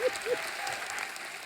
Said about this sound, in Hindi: एक बार जोरदार तालियां हो जाए गैंग्स ऑफ वसेपुर की पूरी स्टार कास्ट के लिए